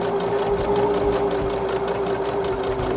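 Sewing machine stitching trim onto fabric on a reworked garment, a steady close whirring hum with a fast mechanical chatter running continuously, no talk.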